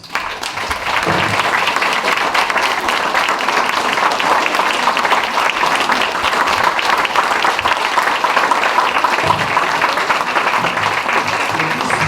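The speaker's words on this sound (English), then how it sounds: "let's give a big round of applause." Sustained audience applause as a Seung Hwa funeral ceremony closes, thick steady clapping from a gathered crowd that starts after a brief moment and holds evenly to the end.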